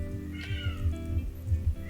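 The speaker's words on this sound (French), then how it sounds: "On a notre chat qui miaule beaucoup." A house cat meows over and over, a string of short repeated cries close by, mixed with a steady low hum and faint background sound, with no speech.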